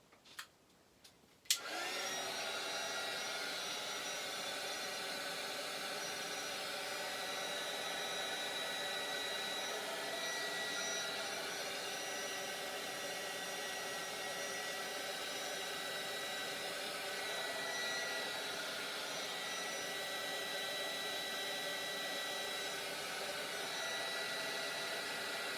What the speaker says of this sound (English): I'm just going to use my dryer very quickly, make some noise, sorry